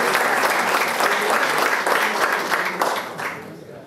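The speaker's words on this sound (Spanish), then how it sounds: "Y un aplauso para el resto de los ganadores." Sustained applause from an audience at an award ceremony honoring winners, a dense steady wash of many hands clapping that fades slightly toward the end.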